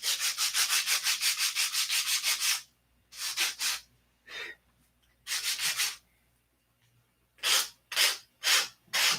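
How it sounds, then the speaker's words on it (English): Sanding parts by hand so they fit, with rhythmic close rasping strokes, a long fast run then several shorter bursts separated by pauses, no talking. "So I need to sand these"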